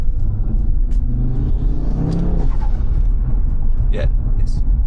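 An Audi RS3 fitted with the factory RS sports exhaust revs in a deep, loud, continuous rumble that rises and holds, with people talking over it.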